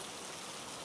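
Steady rain pattering on surfaces, a soft continuous hiss with no distinct drops standing out, faint and even throughout with no voices.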